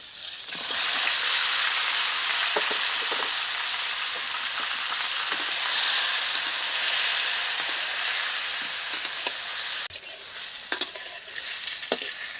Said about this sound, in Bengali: এই তেলে এখন বেগুনগুলো ভেজে নেবো